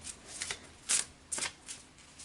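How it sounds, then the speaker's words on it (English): Tarot cards shuffled by hand in a few quick, crisp riffling bursts with short pauses between, close and fairly quiet, no voices. "let's get these shuffled up here, and I will just ask Spirit to pull me some cards"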